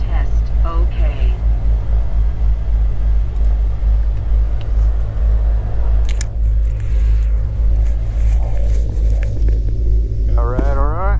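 A Beechcraft Baron G58 piston engine runs steadily at about 1,000 RPM, a loud continuous low throbbing drone that holds throughout, with a brief higher tonal whine near the end.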